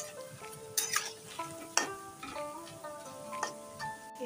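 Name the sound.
eggplant pakoras frying in a pan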